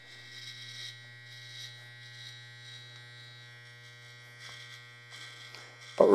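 Electric hair clipper with interchangeable blade sizes buzzing through a skin fade, a steady low mains-like hum with faint rising passes as it moves over the head, and a sharp burst right at the end.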